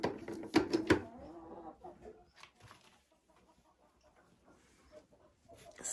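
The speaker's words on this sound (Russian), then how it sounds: "Какая-то курочка выносится." A hen at a dacha poultry yard clucks loudly while laying, a few sharp bursts close by at first, then scattered quieter clucks and rustling, with a renewed flurry at the end.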